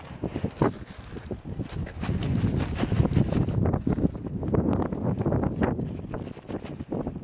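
Strong gusting wind during an ice storm in Alaska, buffeting loudly with irregular surges and rushes throughout; no one speaks.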